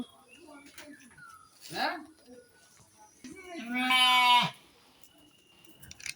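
A goat in a Sylheti village farmyard bleats for its penned kid: one loud, sustained, wavering bleat stands out near the middle, with a shorter cry before it, over quiet outdoor background.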